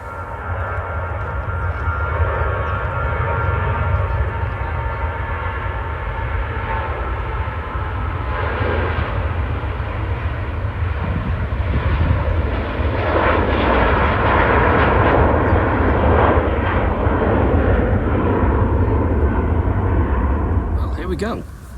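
A jet departing Manchester Airport roars steadily and loudly for about twenty seconds, a broad rumbling engine wash heard from the Southside near the runway, with talking over it.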